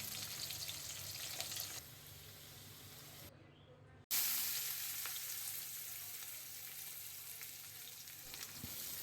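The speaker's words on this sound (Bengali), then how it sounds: "এবার আমি আলুটা ভেজে নেব" Potatoes frying in a kitchen pan give off a continuous hissing sizzle, which drops away briefly midway and then returns louder and steady to the end.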